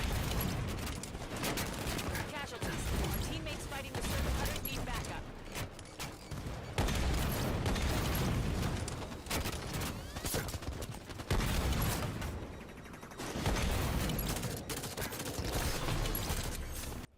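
Rocket launcher fire and explosions from the SPNKr Prime in Halo 5, with repeated loud blasts and bursts of gunfire continuing through a busy, dense game battle.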